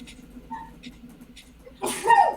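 A single sharp sneeze bursts out close by at a tabletop game session, following quiet background murmur.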